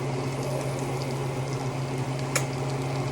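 Beans with onions and jalapenos sautéing in a pan for tacos, giving a steady close sizzle and bubbling hiss under a low constant hum, with one brief sharp tick near the end.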